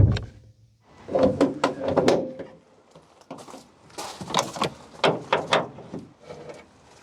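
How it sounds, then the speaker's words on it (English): Bonnet of a Vauxhall Corsa D being opened: a sequence of nearby mechanical clicks, knocks and latch clunks, with a second burst of sharp rattling thuds a few seconds later. "open the bonnet"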